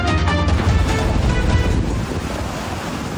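Strong surf and gusting wind from Super Typhoon Nando batter the coast at Calayan, Cagayan, a loud, continuous roar of crashing waves with heavy wind buffeting the microphone throughout.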